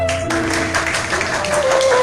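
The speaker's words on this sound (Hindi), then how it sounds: "सबसे पहले हम हमारे सर मैम की जोरदार तालियां" Audience applause for teachers before a school drama about childhood trauma, a dense, fairly loud patter of many hands clapping steadily, with a sustained tone running beneath it.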